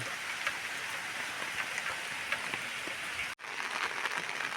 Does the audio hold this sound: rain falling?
yes